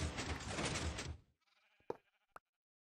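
Sheep bleating in the Minecraft video game, two short distinct bleats heard alone after a burst of dense noise fades out.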